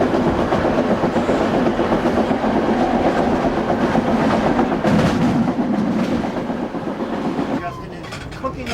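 Moving train heard from on board, with a continuous loud rumble and rhythmic wheel clatter, and voices talking over it.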